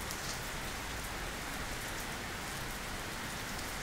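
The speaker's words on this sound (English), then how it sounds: "So it's really no problem that it's raining." Steady rain falls outside an apartment in tropical weather, a dense continuous hiss of drops pattering on surfaces, faint and even throughout.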